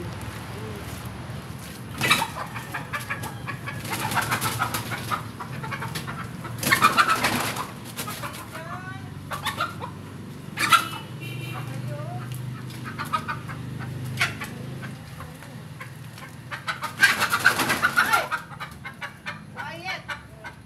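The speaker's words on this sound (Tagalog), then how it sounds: "Sobrang talagang iingay nito mga manok ko." Chickens cluck and call repeatedly in a small home garden over a steady murmur of other birds, with occasional louder bursts nearby.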